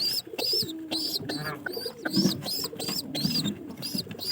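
Pigeons in a loft with nesting birds and young coo in repeated throaty phrases close by, with bright chirps and rustling mixed in, steady throughout.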